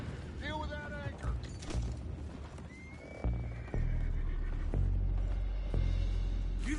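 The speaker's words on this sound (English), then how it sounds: "Boys, go find out about those horses down below." Horses in a video game give a shrill whinny, followed by hoof clops and heavy thumps amid busy game noise, with voices in the background.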